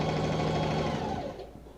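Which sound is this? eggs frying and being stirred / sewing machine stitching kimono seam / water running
sewing machine stitching kimono seam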